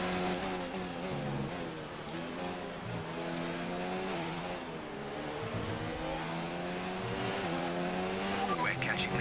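Formula 1 race car engines from F1 2019 drone and rev continuously throughout, with steady high-pitched whine and gear shifts, close and loud, while someone talks over them.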